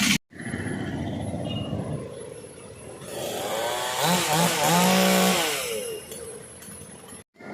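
A chainsaw cutting a large tree that fell toward a road, a loud, continuous engine drone that rises in pitch as the blade bites, with a brief stop at the start and end.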